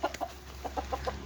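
A rooster being caught lets out a run of short, soft clucks in quick succession, fairly close but quiet, with no talking.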